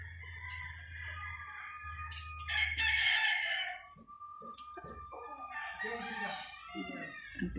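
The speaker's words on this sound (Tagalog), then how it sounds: "pang manok panabong" A fighting rooster crows loudly twice in long, strained calls on a farm, with a low hum and brief murmuring voices in the background between them.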